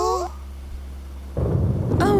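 Thunder rumbles in a cartoon as rain threatens during a drive in a new car, a low sustained roll that swells louder near the end, with a character's voice breaking in at the start and close.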